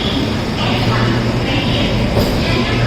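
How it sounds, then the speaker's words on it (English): A local train bound for Coimbatore rumbles steadily through a station, a loud continuous roar and hum of moving carriages heard close by, with voices faintly mixed in. "There's a local train going to Coimbatore."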